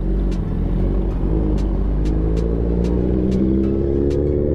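A Kawasaki ZX-10R motorcycle engine runs with a steady, loud low rumble and rising harmonic tones as the ride gets underway, with repeated short clicks on top and no talking.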